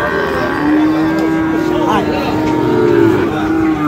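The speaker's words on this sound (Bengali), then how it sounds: "আমবাড়ি হাটের সাইওয়াল জাতের বাছুর গরুগুলো প্রায় বিক্রি করা হচ্ছে।" Sahiwal calves at a busy livestock market moo in a long, loud, drawn-out call close by, set over a steady crowd murmur.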